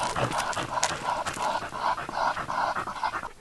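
A beagle pants close by in quick, even, rhythmic breaths, fairly loud and steady throughout with no one talking.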